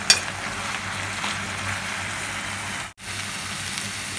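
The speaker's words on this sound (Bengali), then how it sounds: "তো এবার এই সব কিছু খুব ভালো করে মিশিয়ে নেব।" Vegetables and spinach being stirred and mixed in a hot frying pan for palong posto ghonto, a steady close sizzle with soft scraping, briefly cut off near the end before resuming.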